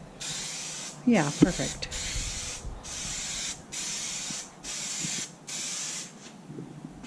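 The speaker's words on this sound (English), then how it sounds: "we're gonna put some spray adhesive on the back" Spray adhesive hisses out of an aerosol can onto the back of a nylon synthetic fabric in repeated bursts of about a second each, close and steady, with a brief spoken exchange early on.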